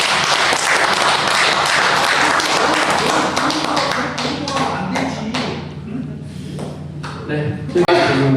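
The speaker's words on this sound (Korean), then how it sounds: "박수 한번 부탁드리겠습니다." Meeting attendees in a room applauding together, a loud sustained burst of clapping that thins out into scattered claps, with a voice speaking over it.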